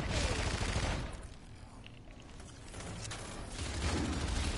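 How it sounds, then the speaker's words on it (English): Rifle fire in a first-person shooter game, loud rapid bursts at the start and end with a quieter stretch between, with faint voice chatter underneath. "It goes away as soon as you fire your rifle"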